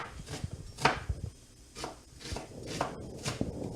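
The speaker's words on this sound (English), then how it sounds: "now chopping in the onion" A knife chops onion on a board at home in the kitchen, giving several scattered, fairly faint cuts and thuds in an irregular rhythm with light handling noise between them.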